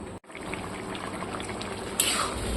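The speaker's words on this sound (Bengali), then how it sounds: "এরপরে এটাকে জোর একবার ফুটতে দেবো, একবার জোর" A pot of bottle gourd curry with water comes to a hard boil, giving a steady close bubbling and simmering hiss that swells briefly near the end.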